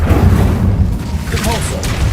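Incendio fire spell cast in Hogwarts Legacy on PS5, a dense low rumbling whoosh of flame that sustains throughout with brief bright crackles near the end.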